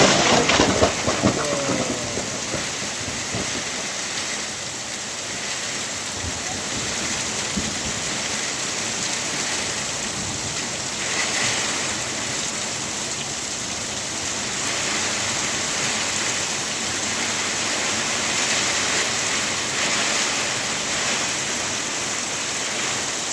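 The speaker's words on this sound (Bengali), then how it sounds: "দেখুন কী জোরে ঝড় হচ্ছে" Heavy rainstorm with strong wind in a village, dense steady roar of rain close by for the whole stretch, with low rumbling underneath that fits distant thunder.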